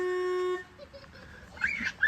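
A child honks a car horn: a short toy-like honk with a steady buzzing tone, followed by quiet and then bursts of high childish giggling.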